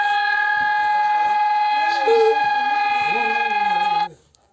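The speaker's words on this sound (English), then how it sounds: "Oh, the siren change." A Brazilian emergency alert system alarm siren blares as a loud, steady multi-tone electronic wail with a slight pitch change midway, then cuts off abruptly near the end.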